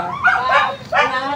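Pet dog at a rural hut during cement work, giving two close, loud, whiny barks or yelps in quick succession.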